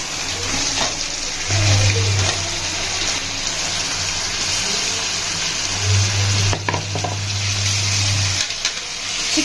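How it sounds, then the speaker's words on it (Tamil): Chicken pieces fry in hot oil for a Tamil chicken gravy, a steady close sizzle and hiss that runs throughout with a few faint clatters. "சிக்கன் வந்துட்டு எண்ணெயிலே நல்லா வேகணும்."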